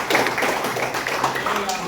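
A classroom of students clapping together during an Islamic religious studies lesson, a dense patter of hand claps throughout with voices mixed in.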